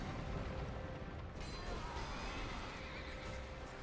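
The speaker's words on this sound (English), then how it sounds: "That's the horse, but I'm not prepared to fight the horse yet." A horse whinnies amid a dense Dark Souls II soundscape, its neigh rising over steady rumbling noise, fairly loud and continuous, no speech.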